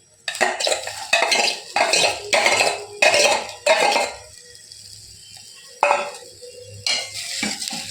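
A spoon stirs cooked rice into soup in a metal pot, giving a series of scraping, clinking strokes in a steady rhythm, pausing midway before a few more strokes, close and fairly loud.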